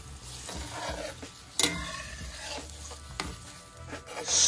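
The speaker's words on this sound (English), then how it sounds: "Stir up the onion, olive oil, and vegetable broth." Onion, olive oil and vegetable broth stirred in a pan, a steady scraping and swishing with a soft sizzle underneath and a few sharper utensil clicks against the pan, close and moderately loud.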